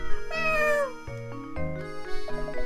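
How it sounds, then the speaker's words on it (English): A video game cat gives a couple of clear, drawn-out meows over a musical background, with no talking. "What's this cat doing here?"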